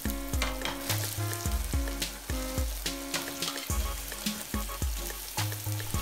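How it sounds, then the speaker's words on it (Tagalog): Zucchini fries in olive oil with a dense, steady sizzle, overlaid by rapid rhythmic clacks and scrapes of a utensil tossing the pieces, loud and close with no voices. "Now it's time to join the zucchini."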